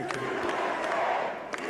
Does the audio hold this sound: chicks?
no